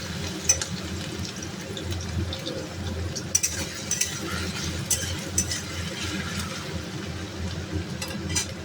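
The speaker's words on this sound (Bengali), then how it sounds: "আলুগুলো ভেজে নেব" Potatoes frying in a pan, a steady low sizzle running throughout with scattered clinks of a utensil against the pan and occasional scraping stirs.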